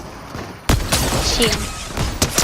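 Rapid gunfire in a video game, a dense loud volley of shots bursting in suddenly and continuing as a crackling barrage, with a player talking briefly over it.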